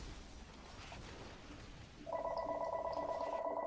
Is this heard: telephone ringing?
yes